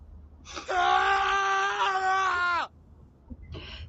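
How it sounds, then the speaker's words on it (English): A man screams in pain as his hips fracture in a spoken campfire horror story. It is one loud, sustained, strained wail of about two seconds that cuts off abruptly, followed by faint gasping breaths. "crying out and screaming."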